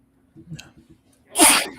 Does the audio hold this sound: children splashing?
no